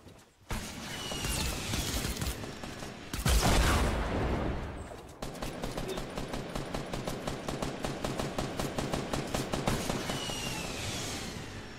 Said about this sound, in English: Shooting at me from up on top of the hill